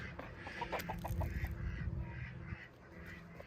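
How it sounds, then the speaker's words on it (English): Seven chickens and five ducks in a small coop, a faint close jumble of clucks and quacks in quick repeated bursts, with no talk. "Let's go check on the chickens and the ducks."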